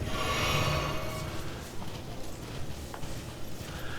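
Horse hooves in the video game Elden Ring clop in a soft, steady rhythm, faint and moderately distant under a hazy ambient background.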